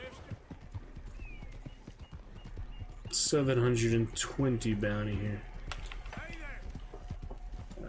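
Hooves of a horse, a different mount from the original thoroughbred, clip-clop steadily in a video game, heard over constant background game audio with someone talking over them.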